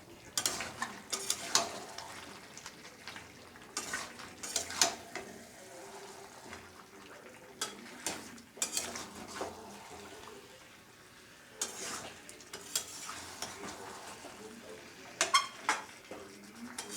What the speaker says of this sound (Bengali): এবার সব মশলার সাথে ভালো করে এবার কষিয়ে নেব।